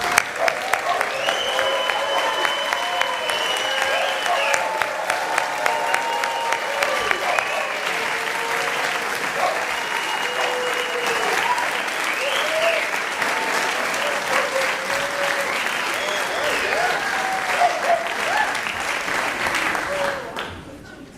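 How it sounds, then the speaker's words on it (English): A room of people at a film festival closing ceremony gives the filmmakers a long, steady round of applause, loud and dense for about twenty seconds, with faint voices murmuring underneath before it fades at the end. "I'd like all the filmmakers who are here tonight to stand up and get a round of applause"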